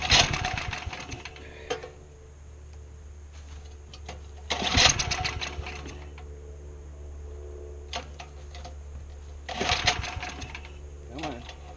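Old Snapper riding lawn mower engine being cranked, three separate bursts of rapid, chugging turnover with quieter clicking and rattling between attempts, close by.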